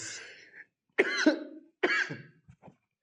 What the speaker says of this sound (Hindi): थोड़ा गला खराब है यार, खांसी आ रही है